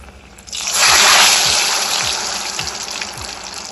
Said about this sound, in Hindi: अब हम गरम तेल में इसको तलने के लिए इसी तरह से हम सभी मोमोज को इसमें डालेंगे।